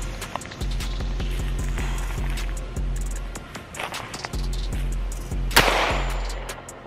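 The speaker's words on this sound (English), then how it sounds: "Y'all, we're gonna do one more shot." Handgun shots crack out in a single sharp, loud report near the end, amid an outdoor setting with rhythmic low thumping and scattered clicks before it.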